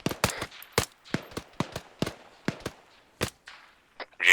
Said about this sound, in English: Just shooting windows.